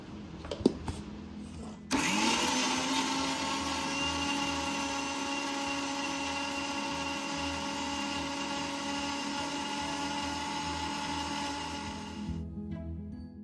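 A kitchen mixer grinder whirs at a steady, loud pitch as it grinds green chillies and curry leaves into a fine paste. A few clunks come before it starts, and it cuts off near the end.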